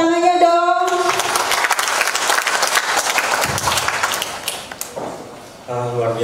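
A seminar audience claps for speakers as they take the stage, loud, dense applause that swells and fades, with a tonal chime at the start and end.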